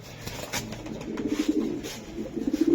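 Racing pigeons coo close by in a cage, giving a run of soft, low, throaty murmuring coos that repeat in a steady rhythm. No one speaks.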